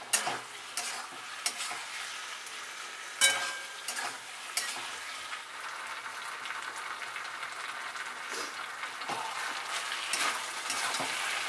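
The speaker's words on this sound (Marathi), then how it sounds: "हे तही चांगलं मिक्स करून घ्यायचं" Paneer chilli being stirred as it fries in a pan, a steady soft sizzle with scraping spoon strokes and occasional louder clinks against the pan, heard close with no speech.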